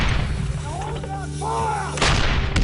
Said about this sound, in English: The shelling was on a daily basis.